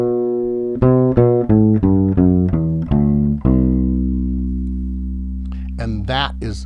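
A C Lydian modal scale is played on bass, clear sustained notes stepping up in an even sequence and ringing out on a long final note, with faint incidental sounds at the end.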